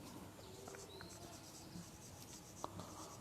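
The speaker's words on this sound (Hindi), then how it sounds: "तो हम लिखेंगे यहाँ" Chalk or marker writing on a board during a chemistry lecture, faint scratchy strokes over a quiet room tone, with no voice during the strokes.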